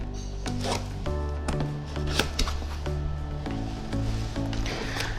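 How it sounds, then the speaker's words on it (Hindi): A 5-in-1 food processor mixer being unboxed, with steady crinkling and shuffling of packaging, tearing and thumping handled close up throughout, no speech. "मैं इसको खोलने लगा हूँ आपके सामने"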